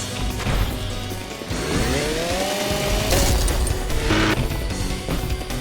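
Chainsaw weapon in the first-person shooter ULTRAKILL, a buzzing motor whine that rises and falls amid crashing, whacking impacts and dense game action, loud and continuous throughout.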